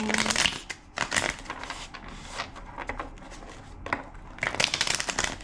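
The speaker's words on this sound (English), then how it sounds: "Two more shuffles." A deck of tarot cards is shuffled in several brisk riffling bursts with pauses between them, close and fairly loud, with no talking.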